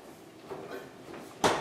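A refrigerator door is pulled open in a home kitchen to reach for skim milk: faint handling noises, then one short, sharp thump of the door near the end.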